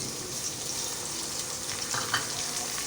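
Chopped tomato frying in a hot pan for a chicken and arbi curry, giving a steady close sizzle with light stirring and scraping, no voices.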